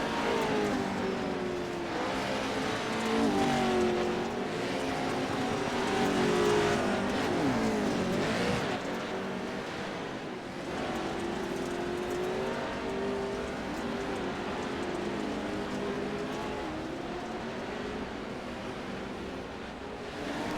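Off-road race cars racing around a dirt course in iRacing, engines droning and revving continuously at moderate loudness, rising and falling as cars accelerate and pass.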